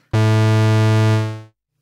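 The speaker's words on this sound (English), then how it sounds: "this means that you can sweep the pulse width with the envelope generator" A single sustained buzzy ARP Odyssey analog synthesizer tone, its pulse width swept by the envelope generator, bright and harmonically rich, holding steady for about a second before fading out.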